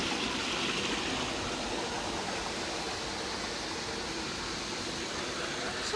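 Rushing water at Mabato Falls makes a steady, dense, broadband roar that stays constant throughout, close and fairly loud, without any clear speech.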